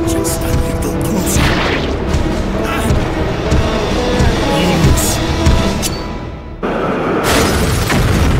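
Explosion in Resident Evil 3 tied to a derailing cable car, a loud, dense roar of blasts and crashing debris filling the scene, dipping briefly before a fresh heavy burst.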